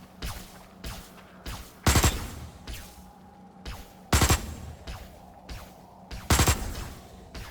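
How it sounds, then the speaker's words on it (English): Assault rifle burst fire in Osiris: New Dawn, three loud sharp bursts spaced a couple of seconds apart, with quieter shots and rumble between them. "Some people don't like the new burst fire mode on the assault rifle."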